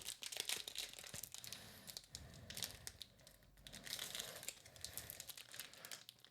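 Sorcery: Contested Realm booster pack wrappers are torn open up close, with continuous crinkling and crackling of foil plastic under firm pressure and no talking.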